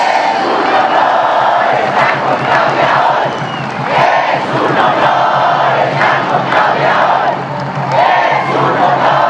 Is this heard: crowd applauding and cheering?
yes